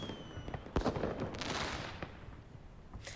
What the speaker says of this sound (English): The night sky shines as the New Year's fireworks bloom above the cityscape.